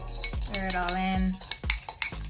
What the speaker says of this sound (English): Stir it all in.